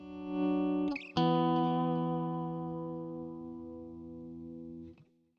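Electric guitar notes played with volume-knob swells, fading in smoothly with no pick attack; a sustained chord rises, a second swell blooms near the start and then decays slowly for several seconds under effects with a chorus-like shimmer.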